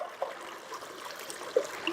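A stream of water flows in a soft, steady rush with faint trickles and small splashes, quiet and continuous, no voices.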